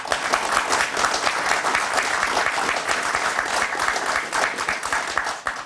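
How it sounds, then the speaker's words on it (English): A TV studio audience applauds warmly, dense and even clapping that holds at a steady level for several seconds without a break. "nice to get applause"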